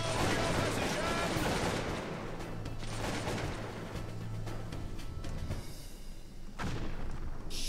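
In the Napoleonic battle game Cossacks 2 at Waterloo, muskets fire in volleys as dense crackling bursts of gunfire with dull booms, loud and continuous, with brief lulls and voices shouting faintly among the shots.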